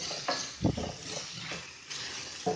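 Carrots and other vegetables sautéing over high flame in a pan, a steady sizzle with scraping stirring strokes and light clinks of utensil on pan, with no talking.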